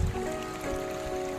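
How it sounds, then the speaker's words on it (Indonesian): River water flowing at the end of a river where two streams meet, a steady close gurgling rush with some low burbling and no voice. "Ini saya berada di ujung sungai"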